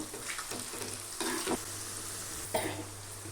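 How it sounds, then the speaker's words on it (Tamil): Triangle-cut potato pieces deep frying in oil, giving a continuous sizzle broken by a few louder stirring scrapes and clatters. "எண்ணெயிலே பொரிச்சு எடுத்தோம்னா போதும்."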